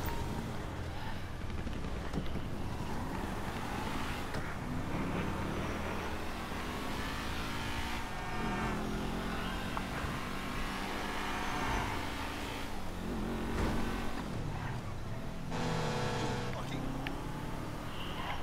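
A vehicle drives in a military base attack video game, its engine droning and revving with shifting pitch over a steady rumble, under busy overlapping voices of players talking throughout.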